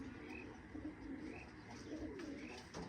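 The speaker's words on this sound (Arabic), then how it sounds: "لانه مازن يطير زواجل وكلهم بطويرني زواجل" Pigeons coo repeatedly in soft, low rounded phrases at moderate distance, with other birds faintly around them in an outdoor setting.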